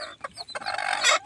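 Chickens on a small mini farm cluck in a brief burst of several quick, fairly close calls, rising to a louder cackle at the end.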